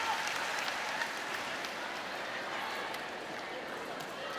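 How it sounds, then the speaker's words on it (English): A volleyball arena crowd applauds and cheers in a steady, dense wash of sound during a professional women's league match, heard from a distance without a break. "A round of applause for Priscilla Rivera."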